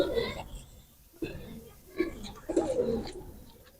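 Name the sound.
golden teddy pigeon chicks cooing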